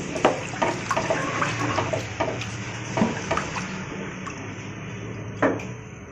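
Water is poured into a pan of stir-fried capsicum and other vegetables for chicken Manchurian, giving a steady broadband wash with light clinks and sizzle throughout, fairly close and with no talking.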